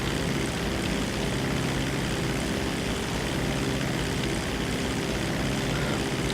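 A propeller plane flies in GTA 5 Online, its engine a steady, loud, dense drone that holds unbroken from start to finish with no voices.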